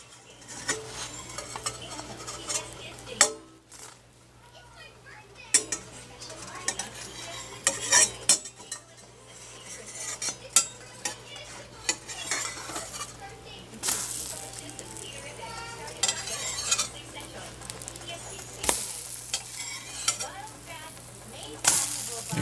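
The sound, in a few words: chocolate chip pancakes cooking in a stainless steel pan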